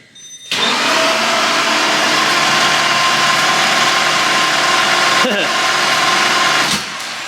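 A Lamborghini Murcielago GT1 race car engine, started for the first time in a year, cranks and catches, running with a steady loud drone for several seconds, then briefly sputters and drops off near the end.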